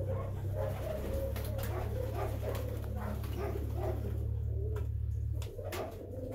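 Pouter pigeons coo in low throaty rolls while a small dog whimpers and yaps nearby, the steady droning coo running for several seconds before cutting off near the end.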